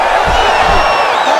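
Crowd in the EA Sports UFC 5 octagon roaring after a ground battle, a loud, sustained wall of cheering with a rising whoop, heard close and unbroken throughout.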